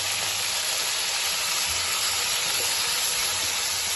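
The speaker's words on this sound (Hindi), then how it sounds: "7 से 8 मिनट इसको हमने फ्राई कर लेना है इसमें।" Chicken frying in a pot for Phaari biryani, a steady, even sizzle and hiss that runs unbroken throughout, close and moderately loud with no talk over it.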